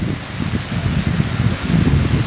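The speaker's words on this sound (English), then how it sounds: "Is it raining a little bit? Yes. Sprinkling." Light rain sprinkles outdoors as a soft, steady hiss with a low rumbling wash, close and continuous without talk.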